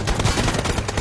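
Rapid automatic gunfire in PUBG Mobile, a dense, close burst of shots filling the whole short moment with no talking.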